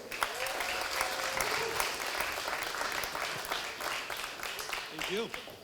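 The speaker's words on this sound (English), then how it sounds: "I would like to ask you a big round of applause for Maarten Vissers from 1924." A conference audience applauds a speaker being welcomed to the stage. Continuous, fairly loud clapping runs throughout, with a few voices and whoops mixed in.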